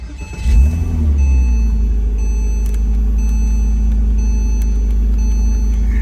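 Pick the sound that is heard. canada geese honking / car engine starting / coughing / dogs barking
car engine starting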